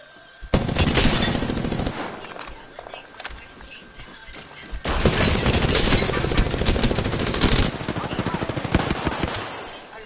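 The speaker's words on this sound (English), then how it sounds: "It was Octane, he's shooting back." Rapid automatic gunfire from Octane shooting back in a fast-paced shooter match, loud close bursts in two long stretches with brief gaps, voices talking over the shots.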